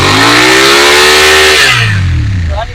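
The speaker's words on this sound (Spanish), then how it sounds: "Qué pasa cuando entras al barro y aceleras?" A motorcycle engine revs hard and loud throughout on muddy offroad ground, its pitch climbing steadily, then dropping away and fading near the end.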